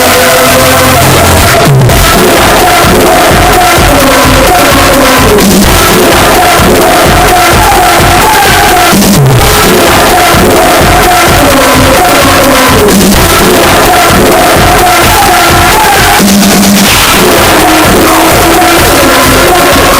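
Awards-ceremony audience cheering and shouting for a winner, a loud dense crowd roar with whoops and hollers sustained throughout, music pulsing underneath.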